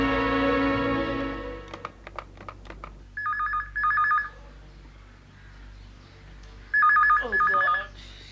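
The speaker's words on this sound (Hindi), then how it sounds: "किसका फोन आ गया?" Indoor telephone in a Hindi TV drama rings in two separate pairs of warbling electronic bursts, the first pair after a short spell of music and soft taps, with a brief voice between them.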